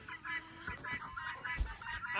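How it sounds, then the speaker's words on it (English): Chickens cluck and murmur softly inside a coop, a low, fairly faint flock chatter with a few sharper calls. "There's chickens in here."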